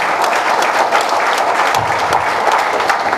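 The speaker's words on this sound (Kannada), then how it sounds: "ಎಲ್ಲ ಜೋರಾಗಿ ಒಮ್ಮೆ ಚಪ್ಪಾಳೆ ತಟ್ಟಬೇಕು" Audience of students and parents at a pharmacy college batch function breaking into loud, dense, sustained applause that fills the whole stretch without a break.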